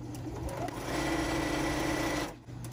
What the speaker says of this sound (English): I'm just gonna go ahead and keep sewing as many as I want, as many as I have.